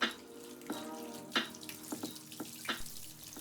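Running tap water rinses relaxer out of hair during a front wash over a sink, a close, irregular splashing and trickling with sharp bursts as water hits the hair and basin.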